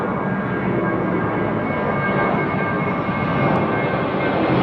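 A Delta jet airliner departing Heathrow runway 09R gives a steady, broad engine roar that holds level and loud throughout, with no talking.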